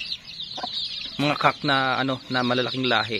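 Heritage-cross hens and chickens on a goat farm cluck close by in short repeated bursts, heard alongside someone talking in Filipino.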